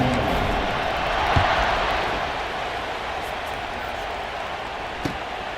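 Stadium crowd roaring before a kickoff in the College Football 26 video game, a broad sustained cheer that swells slightly then settles into a steady wash of noise with a couple of faint thumps.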